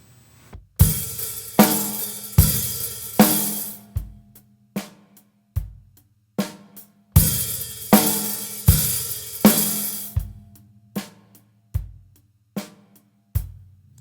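Acoustic drum kit money beat groove played slowly, the first measure loud with crashing, washy cymbals over kick and snare, then the same pattern dropping away to soft, sparse hits, repeated twice, close and without speech.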